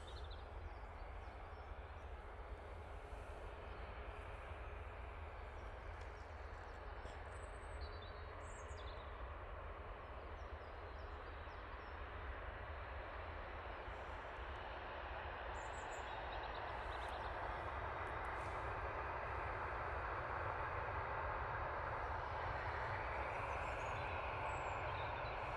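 An Ethiopian airliner taxiing past the Jet2 and STS hangars, heard from a distance as a faint, steady engine rumble that grows slightly stronger toward the end, with occasional bird calls above it.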